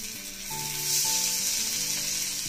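Murrel fish pieces fry in oil in a pan, giving a steady, loud sizzle with crackling throughout, with a faint tonal hum underneath and no voices.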